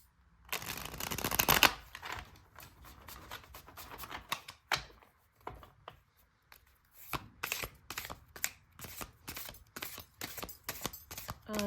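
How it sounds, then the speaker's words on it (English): A thick, edged Midnight Magic tarot deck is shuffled repeatedly, with a quick riffle burst first and then a steady series of soft snapping card sounds. "So I've been trying to shuffle it this way."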